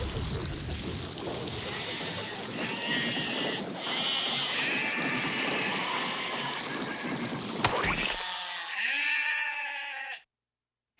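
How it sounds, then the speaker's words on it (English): Sheep bleat in the video game The Neverhood. Several wavering calls sit over a busy background, and a clear final bleat comes just before the sound cuts to silence. "Sheeps."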